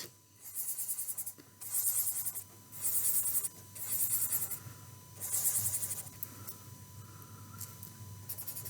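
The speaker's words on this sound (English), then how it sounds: "I'm going to write number 5 in there." Pen or marker scratching out a number by hand on paper: several close, distinct scribbling strokes in short bursts, then fainter rubbing.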